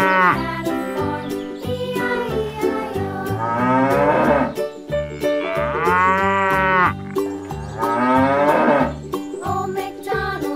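A cow mooing on a farm, several long drawn-out moos rising and falling in pitch, loud and close, separated by short pauses.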